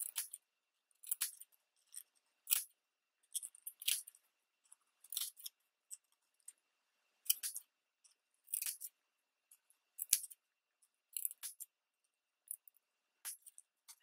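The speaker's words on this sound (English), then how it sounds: "Take your scissors" Scissors snip fringe into paper flowers for a shabby boho junk journal craft, giving quiet, close, crisp cuts in small irregular clusters with short pauses between them and no talking.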